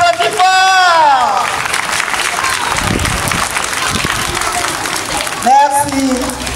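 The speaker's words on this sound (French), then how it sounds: "on applaudit, on applaudit, on applaudit fort" Audience at a preschool end-of-year party applauding loudly in a steady wash of clapping for several seconds, with a voice speaking at the start and end.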